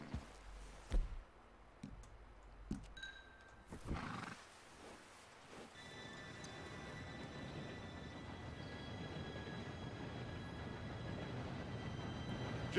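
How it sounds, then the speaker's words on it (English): A train arriving in Red Dead Redemption 2: a low rumble swells from near silence into a steady, loud roar, after a few scattered knocks and a faint animal call at the start. "Train should be here any minute now."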